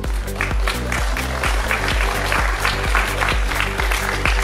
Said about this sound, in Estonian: See on nüüd küll aplausi väärt.